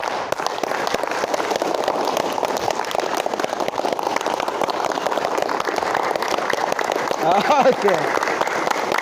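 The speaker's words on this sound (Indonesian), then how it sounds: "Coba kita tes dulu tepuk tangannya." Audience of village officials and staff at a training session clapping together in a steady, dense burst that fills the room, with a host speaking over it briefly near the end.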